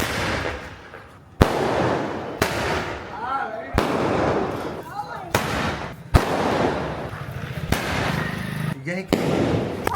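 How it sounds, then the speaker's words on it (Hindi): Firecrackers set off outdoors during a Bhaiya Dooj celebration, a series of sharp loud bangs at irregular intervals, each followed by crackling and fizzing, with people talking and calling out throughout. "आप चलाओगे क्या ये पटाखा?"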